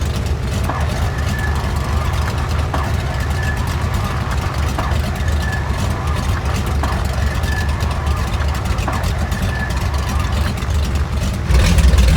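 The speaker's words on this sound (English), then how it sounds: "Starting engine number 2." The second radial engine of a Grumman JRF-6B Goose in Microsoft Flight Simulator joins a loud, steady low-pitched drone, with a rhythmic whine over the rumble that swells louder at the very end.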